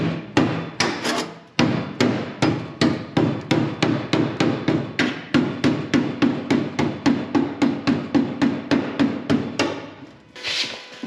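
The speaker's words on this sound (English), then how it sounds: "This is my favorite hammer." A hammer strikes the steel body of a 1955 Chevy Bel Air during wheel-well rust repair, ringing out dozens of sharp, evenly paced metallic blows close by. No one talks while it plays.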